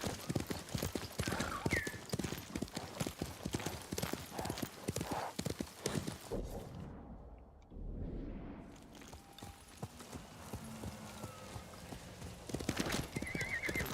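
Horse hooves clip-clop steadily in the video game Ghost of Tsushima, with a loud neigh and whinny near the start, a brief lull midway, then hooves resuming over ambient outdoor game sound.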